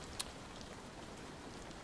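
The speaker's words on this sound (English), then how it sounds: "It's raining" Steady rain patters on surfaces in a Call of Duty match between LA Thieves and FaZe Vegas, a soft, even hiss that holds for the whole stretch, with a brief brighter drop tick near the start.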